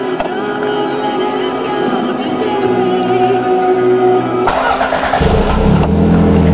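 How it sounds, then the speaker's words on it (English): A Toyota MR2 turbo engine cranks and catches, then settles into a loud, steady mid-pitched idle that shifts tone partway through, with no talking. "Now if I turn it off and start up the car"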